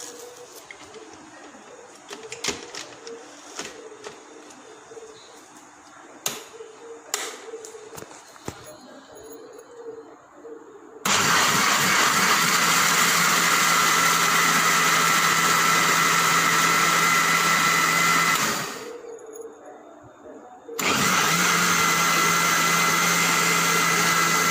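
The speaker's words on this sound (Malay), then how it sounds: "Sekarang kita akan kisar ia menjadi hancur dan halus betul-betul." Kitchen blender grinding soaked white dal with rice and water into a smooth batter: after quiet handling clatter, the motor roars loudly and steadily, cuts out briefly, then starts again at full power.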